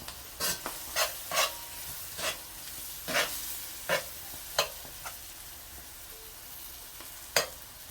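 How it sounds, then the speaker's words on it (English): Seasoning cooking down in a pot for a fish, rice and vegetables meal gives off a soft, steady sizzle, broken by a series of brief stirring scrapes and clinks at irregular intervals. "I'm going to cook down my season."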